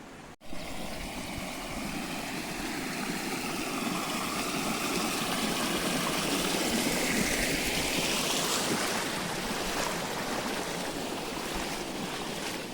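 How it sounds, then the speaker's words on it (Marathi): Steady rushing water flows continuously, a broad, full wash of sound close by with no voices. "या बाजूला पण चांगला फ्लो चाललाय"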